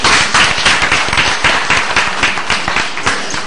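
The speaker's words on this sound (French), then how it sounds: "Applaudissez pour lui." Audience applause at a Beninese pharmacists' gathering against counterfeit medicines, a dense run of clapping that stays steady and close for the whole stretch, with no speech over it.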